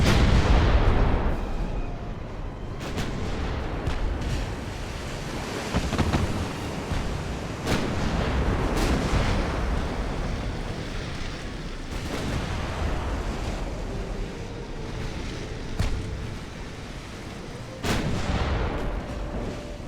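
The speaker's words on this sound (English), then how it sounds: "Concentrate fire on the lead heavy cruiser." Heavy naval guns firing at a lead heavy cruiser in the video game Ultimate Admiral: Dreadnoughts, with repeated booming shots spaced several seconds apart over a continuous roar of sea and battle noise, loud and close.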